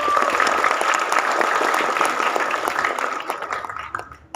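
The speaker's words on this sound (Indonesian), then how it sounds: "Boleh dong tepuk tangannya." An audience at a presentation event applauds a man invited up to the front, a loud, dense burst of many hands clapping that holds steady and then thins out toward the end.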